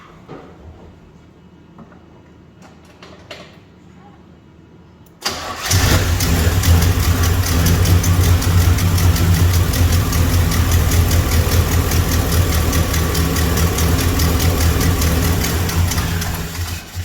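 The engine of an OBS four-speed truck with a new Holley carburetor comes to life after several quiet seconds of faint clicks. It jumps to a loud, close, steady idle with a rough, knocking texture.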